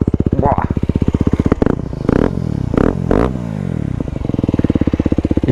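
An Aprilia SX 125 motorcycle engine revs loudly and close by, its harsh rapid firing pulses rising and falling in several bursts, with a voice speaking briefly between the revs.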